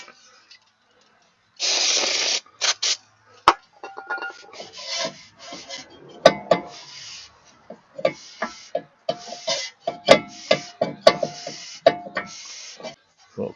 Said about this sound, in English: I'm just going to spray my rag with brake clean